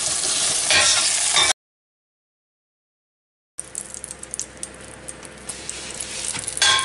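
Turkey pieces sizzle and fry in a pan, a steady crackling hiss that cuts out briefly and then resumes with stirring clatter.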